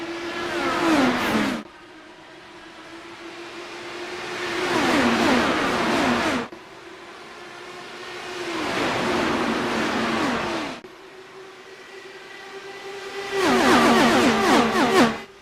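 IndyCar race cars in a sim racing game accelerate from the start, engines revving up through repeated gear-shift sweeps in three or four loud surging waves, each cut off abruptly, with no talking.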